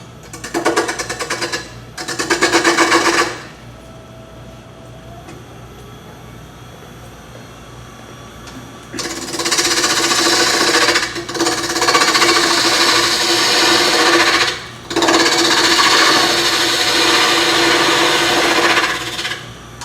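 A wood lathe turns a mushroom blank as it is shaped toward a tenon, with two short bursts of loud cutting, a quiet gap, then long, sustained, abrasive rubbing and cutting broken by brief pauses.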